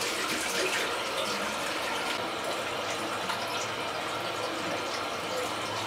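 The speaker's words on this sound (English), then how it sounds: "I'm just going to quickly wash my face now" A tap runs steadily while someone washes their face, a continuous splashing hiss of water at close range with faint irregular splashes and no talk.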